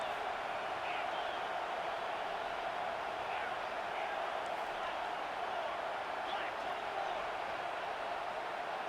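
Stadium crowd in EA Sports College Football 25, a steady, distant roar of many voices that holds evenly throughout at moderate loudness.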